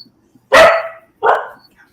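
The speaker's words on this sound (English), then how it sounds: "Oh, you got a barker too." A dog barks twice, loud and close, the two sharp barks about three quarters of a second apart against an otherwise quiet background.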